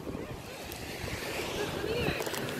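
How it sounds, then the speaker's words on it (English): Big ocean waves surge and wash in a continuous roar of surf, with wind buffeting the microphone and faint voices in the background, growing slightly louder toward the end. "Dude, the waves are big."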